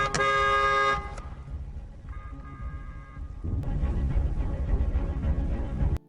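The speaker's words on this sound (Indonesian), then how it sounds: "Ia membunyikan klakson mobilnya untuk mencari tahu lokasi pria tersebut" A car horn gives one long, loud blast, then a softer, shorter honk, followed by a rumbling burst of vehicle and street noise, with no speech.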